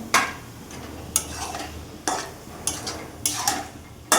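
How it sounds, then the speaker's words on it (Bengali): Spice paste fries in a pan while a spoon stirs it, each stroke giving a sharp scrape and clink. The strokes come about once a second over a faint sizzle, close and clear. "একটু ঢেকে ঢেকে মশলাটা একটু কষাবো।"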